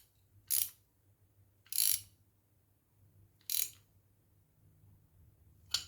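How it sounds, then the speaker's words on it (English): An 11mm spanner tightens a part on a Weber 28/30 carburetor, giving three short, sharp ratcheting clicks spaced over about six seconds against near silence. "we're going to need an 11mm spanner to get it in the right direction. That is, don't over tighten it"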